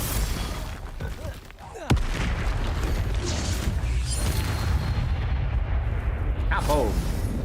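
Spell blasts from the fantasy action game Hogwarts Legacy sound as sharp bursts over a dense, continuous roar of combat noise, with a loud impact near two seconds and whooshing, creaking effects later. A voice is heard shouting spell names.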